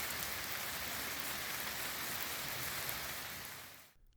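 Steady rain falling in a cemetery, a dense even hiss of drops on surfaces that holds constant and then cuts off abruptly at the end.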